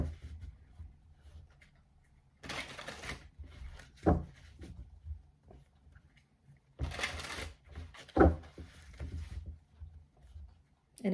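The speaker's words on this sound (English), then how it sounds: "I've already shuffled, but I'm going to shuffle a little more." Tarot cards being shuffled by hand during a reading, two distinct bursts of riffling and flicking close up, separated by quieter handling and soft rustles.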